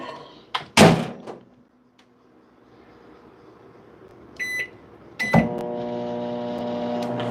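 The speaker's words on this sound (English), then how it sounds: "put it in the microwave" A microwave oven door thunks shut in a home kitchen, followed by a couple of short beeps from the keypad, then a loud click and the steady hum of the microwave running, heating rice and water.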